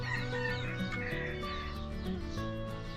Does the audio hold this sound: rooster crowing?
yes